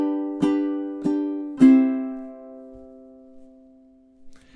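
Three strummed ukulele chords of a song ring out evenly in time, each strum bright and sustained, the last chord left to decay into near silence.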